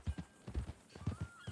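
Horse hooves clip-clop in a steady walking rhythm, close and moderately loud, in the western video game Red Dead Redemption 2, with no speech.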